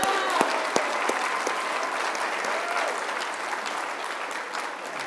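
A large audience at a governor's summit on disabilities breaks into sustained, dense applause that stays loud and steady throughout, with a few cheers mixed in.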